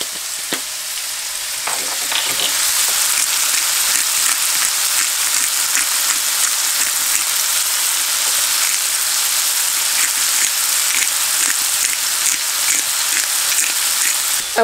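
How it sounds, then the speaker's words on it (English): Mushrooms and garlic fry in a pan at a camp, giving a steady, loud, close sizzle with faint crackles that continues throughout. "Nothing better than a frying mushroom, eh? With garlic, yeah."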